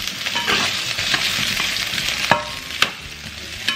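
Carrots frying in hot oil in a pan for pork afritada, a steady close sizzling hiss with a few sharp crackles and pops near the end.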